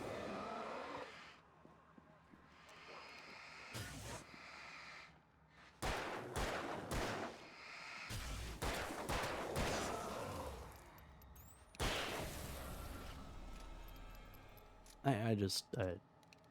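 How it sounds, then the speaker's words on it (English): Shotgun blasts in the Alan Wake video game: several loud, sharp bursts spread across the stretch, separated by quieter game sounds, with a voice talking in between. "that's the shotgun"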